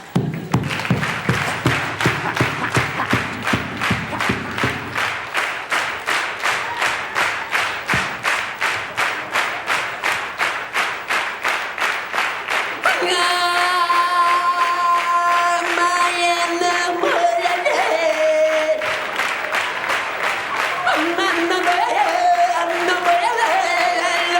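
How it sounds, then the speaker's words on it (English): Audience hands clapping in steady, rhythmic unison at a stand-up comedy show, loud and close for several seconds, then giving way to a sung, tonal voice over continued crowd noise. "Come on, clap your hands"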